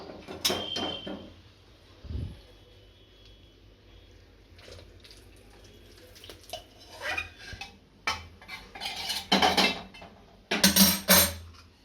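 Syrup being stirred into flour in a pot for adadiya pak, heard as close scraping and clinking of a utensil against metal, with irregular bursts that grow louder and busier toward the end.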